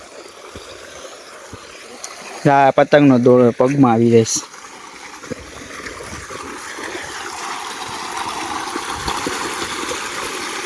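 Irrigation water gushes steadily from a motor pump pipe in a farm field, a continuous near rushing flow that grows slightly louder toward the end, with a brief burst of speech early on.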